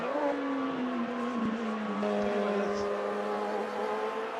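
A 1984 Formula 1 race car engine in Automobilista 2 at the Italian Grand Prix, droning steadily and loudly throughout with a sustained, slowly shifting pitch, like a continuous onboard engine note at high revs.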